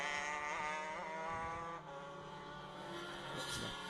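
Superkarts race at Anglesey circuit, several high-revving two-stroke engines whining together and rising and falling in pitch as they pass, loud and continuous.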